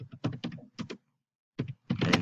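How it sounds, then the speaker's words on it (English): Keys being pressed on a computer keyboard, a few quick clusters of clacks and thunks separated by a short silent pause, close and fairly crisp, with no talking. "I'm typing."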